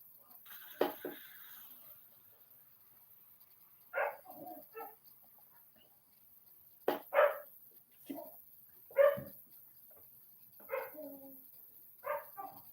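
Dogs barking outdoors, several separate barks and short bursts spread across about a dozen seconds, moderately distant against a quiet background.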